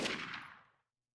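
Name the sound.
gunshot from the 428: Shibuya Scramble video game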